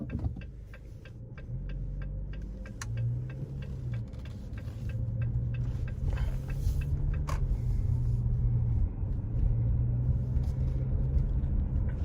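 A 2018 Jeep Compass Limited rental car driving on a road at about 30 mph, heard from inside the cabin as a steady low engine and road rumble with a regular ticking, like a turn signal, throughout.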